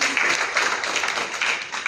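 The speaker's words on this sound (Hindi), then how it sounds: "जोरदार ताली" A class audience applauds, with dense, steady clapping throughout the short stretch.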